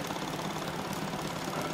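An old engine idling at a steam rally, ticking over in a steady, smooth rhythm with a fine mechanical knock, heard close and alone at moderate level.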